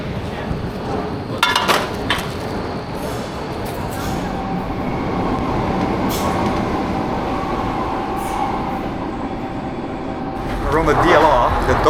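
Automated light rail train running through the Docklands around Canary Wharf, a steady rumbling ride with wheel clatter and a squealing hum building toward the end; people talk over it.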